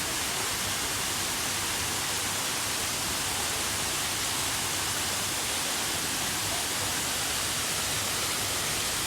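A garden waterfall at a forest-themed cafe in Udon Thani, Thailand, gives an unbroken, even rush of falling water that fills the whole stretch at a steady moderate level with no voices.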